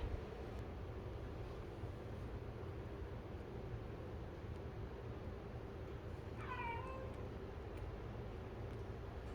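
A cat meows once at a garden supply store, a short falling cry rising briefly above steady low rumbling and wind noise outdoors.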